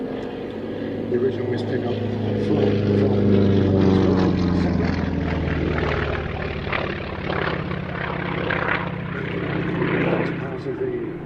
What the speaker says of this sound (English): Catalina wearing the livery of Miss Pickup